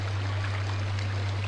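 Flowing water in the video game Ether One: a continuous, even rush of streaming water with a low steady hum beneath it and no speech.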